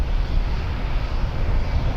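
An Air Canada Airbus A330's engines rumble steadily at a distance as it lines up at Toronto Pearson, a broad, even roar with no other sounds.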